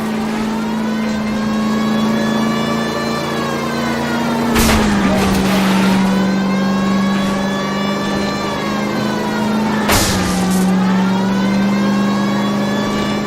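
A car engine in a chase in L.A. Noire drones loud and steady, then drops pitch twice with sharp bursts as it shifts and surges, accelerating under a constant whine.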